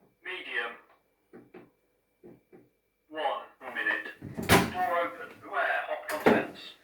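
A microwave oven door gives a couple of short, faint clicks and knocks in a home kitchen, surrounded by someone talking and a synthetic appliance voice.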